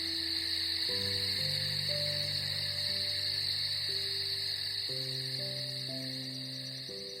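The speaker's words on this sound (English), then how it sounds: "Crickets sang their good-night song to the farm animals" A steady, high chorus of crickets chirps at night on a farm, a continuous shimmering drone heard beneath soft sustained musical tones, with no talking.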